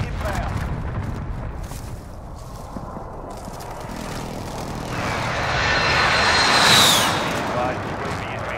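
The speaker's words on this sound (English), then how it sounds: "Be advised, friendly precision airstrike inbound." A precision airstrike jet from a video game sweeping overhead, a roar that swells from a low rumble to a loud close pass near the end, over battle noise and some talk.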